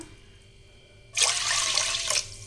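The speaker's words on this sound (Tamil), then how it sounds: "இதில் நல்லா தண்ணி மூழ்கிற அளவுக்கு நல்லா ஊற்றிடலாம்" Water gushes into a pressure cooker holding washed cowpeas (karamani) and salt, a loud steady pour starting abruptly after a quiet second and running close-up for just over a second before easing off.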